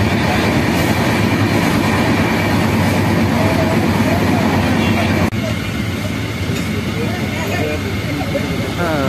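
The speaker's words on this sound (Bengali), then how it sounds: "ট্রেন তার নেক্সট স্টপেজ চাকুলিয়াতে এন্টার করছে।" Howrah Ranchi Intercity SF Express train running toward a station stop, steady loud rumble and rhythmic clickety-clack of the wheels throughout, with people talking in the carriage underneath.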